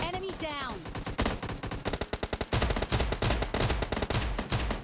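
Rapid bursts of gunfire from the PUBG Lite mobile game, mostly pistol shots, crack in quick irregular volleys, loud and close, with a voice heard briefly at the start.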